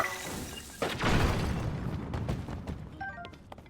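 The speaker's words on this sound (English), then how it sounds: "The one problem with mining via explosion is that none of the pieces go where you expect them to go." In Zelda: Tears of the Kingdom, an explosion used for mining shatters a big chunk of ice. A heavy boom and crash land about a second in, followed by scattered cracking and tinkling debris that fades out.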